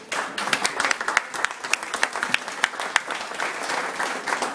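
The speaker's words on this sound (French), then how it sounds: "On l'applaudit." An audience applauds at a pastry and chocolate-making event in Hainaut. Many hands clap steadily, with sharp claps standing out, and the applause holds at a moderate level throughout.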